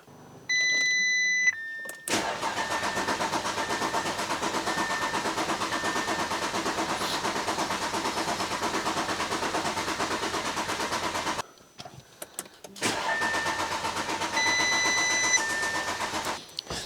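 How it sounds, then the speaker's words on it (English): Audi S5 engine cranked with fresh 5W40 oil to build oil pressure, with a loud sustained mechanical whirring of the starter turning the engine over without firing, two long runs separated by a brief pause, with chime beeps at the start and near the end. "First I want to crank it to build oil pressure."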